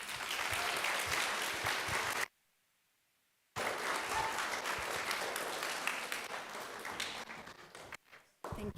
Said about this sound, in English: Let's have one more round of applause.